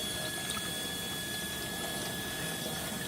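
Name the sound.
water rinsing crud off a cast iron pan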